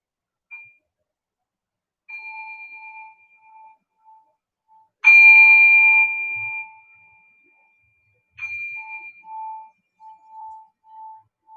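Meditation bell struck clearly and left to ring out, a bright tone lingering and slowly fading, followed by a second softer strike, with faint repeating chimes in a quiet setting.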